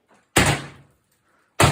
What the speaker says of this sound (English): a student activist films as law enforcement puts a battering ram to the front door